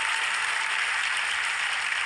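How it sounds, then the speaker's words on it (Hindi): An audience claps for a guest at a televised event, a dense, steady burst of applause filling the whole moment, with no voices over it. "एक बार तालियां बज जाए इनके लिए।"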